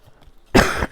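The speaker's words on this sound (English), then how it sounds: "apologize for my cough." A single sharp cough from a person who has a cold, close and loud, after a short quiet moment.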